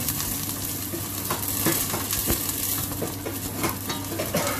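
Garlic fries in a little hot oil in a casserole with a dense, continuous crackling sizzle, close and fairly loud, dotted with occasional light scrapes and taps of a stirring utensil.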